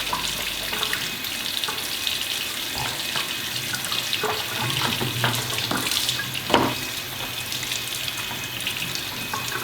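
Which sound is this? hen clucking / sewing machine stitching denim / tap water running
tap water running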